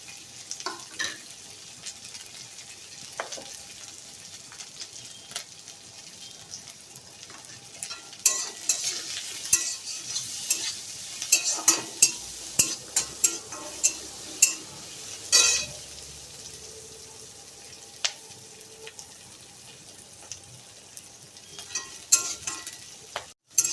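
Garlic, a medium onion and three to four green chillies frying and being stirred in a pan for egg curry, with steady sizzle and clustered scraping clicks of a spoon against the pan, louder in the middle stretch.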